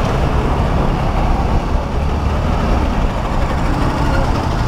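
A special antique motorcycle idling at a heritage festival in Dehradun, a loud steady engine drone close by with a dense low rumble and no clear breaks.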